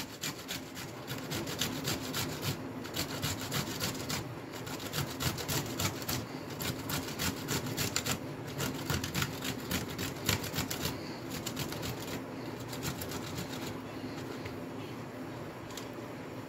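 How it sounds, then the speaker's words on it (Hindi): Cauliflower florets rubbed against a hand grater for gobhi kebabs, a continuous rhythmic scraping and rasping with regular strokes, close and steady throughout. "इस तरीके से हमने कद्दूकस करनी है। गोभी हमने कद्दूकस कर लिए"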